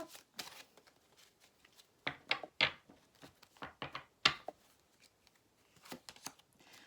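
Small tarot message cards are shuffled by hand, quiet and close, with irregular bursts of papery riffling and soft slaps spread over several seconds.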